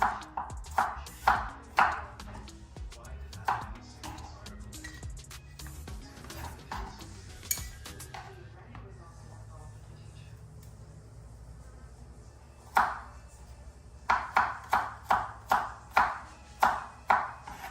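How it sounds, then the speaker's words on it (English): Garlic chopped fine with a knife on a board while cooking outdoors: bursts of quick, sharp, rhythmic knocks, close and distinct, with a quieter stretch in the middle and a faint insect-like buzz in the background, no talking. "Garlic actually soft and easy to beat out, so you want to cut that fine."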